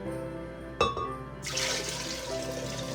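Homemade Trinidad-style ginger beer is poured into a container in a kitchen, a brief clink then a steady splashing rush of liquid that continues close and fairly loud to the end.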